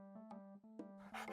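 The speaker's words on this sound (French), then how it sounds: "Chien." A cartoon dog gives a quick run of short, tonal barks in an animated children's show, four or five yaps in a bouncy rhythm, followed by a brief noisy burst at the end.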